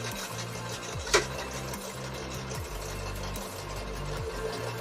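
A sewing machine hums steadily through a home sewing session, its motor note shifting in pitch as the stitching speed changes, with one brief sharp click partway through and no voices.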